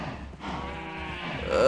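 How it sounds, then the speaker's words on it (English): Minecraft cows mooing, several low drawn-out calls close by over steady game background sound, with a person talking over parts of it. "There's too many cows."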